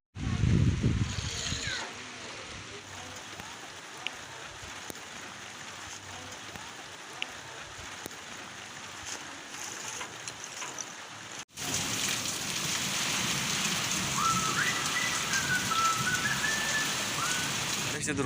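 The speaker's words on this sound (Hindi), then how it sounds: "बारिश काफ़ी तेज़ स्टार्ट हो चुकी है, आप देख सकते हैं बूंदें" Heavy rain falls steadily in a village as a rooftop crack is being covered, a dense hiss that grows louder partway through, with a short voice at the start and faint whistling tones later.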